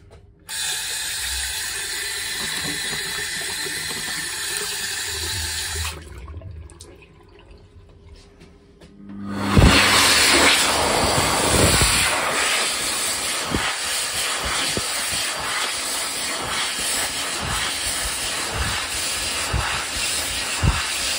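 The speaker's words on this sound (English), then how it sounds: "here's the video of the dryer." Love Air Air Fury C hand dryer in a washroom, broadband airflow roar running steadily, dropping out briefly, then surging back louder and continuing to the end.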